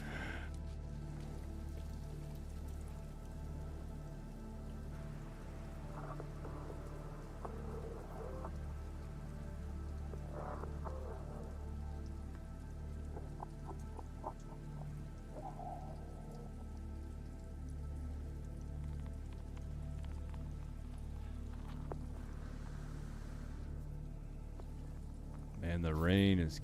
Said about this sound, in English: the rain is killing me.